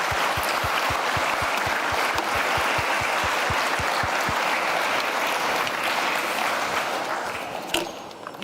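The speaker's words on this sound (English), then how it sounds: "Can we please have a final round of applause for Vanessa?" A conference audience claps in a sustained, full round of applause with a few distinct nearby claps early on, fading out toward the end.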